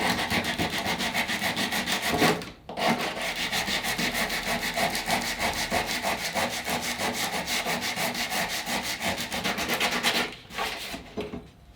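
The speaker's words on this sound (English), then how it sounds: "we're just sanding the resin on the box" Steady back-and-forth rasping of sandpaper on resin around a surfboard fin box, continuous and close, with two brief pauses between strokes.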